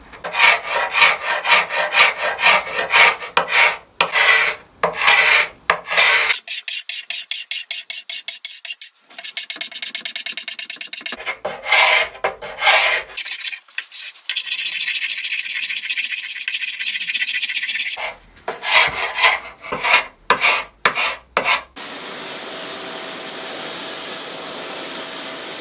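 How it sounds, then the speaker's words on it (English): Old wood veneer being scraped on weathered barn furniture, with repeated rough rasping strokes in bursts, close and fairly loud, broken by short pauses and a steady hiss toward the end. "I'm going to have to be very careful scraping because I don't want to pull any more of the veneer off."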